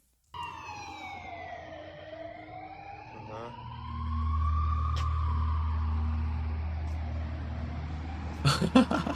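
Emergency vehicle sirens wail in long rising and falling sweeps, starting loud and close and building further midway, with a low vehicle rumble underneath and a few sharp knocks and clatters near the end; no voices.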